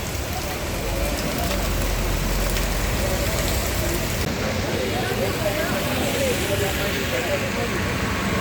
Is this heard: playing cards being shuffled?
no